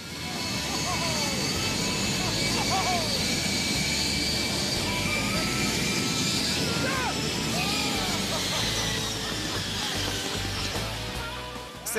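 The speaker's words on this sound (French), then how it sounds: "l'avion atteint bientôt sa puissance maximale" A loud, continuous roar of Boeing 747 jet engines at full power, sustained and close, with faint higher tones drifting over the rumble.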